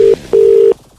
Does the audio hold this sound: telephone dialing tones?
yes